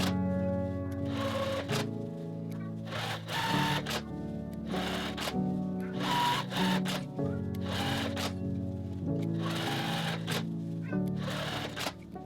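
A sewing machine stitches quilting lines across a fabric coin pouch panel, running in repeated bursts of rapid mechanical whirring with short pauses between, close and steady.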